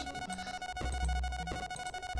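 In the mining game Dig-N-Rig, a continuous low-health warning tone keeps sounding over rumbling, clanking game effects, loud and unrelenting for a couple of seconds.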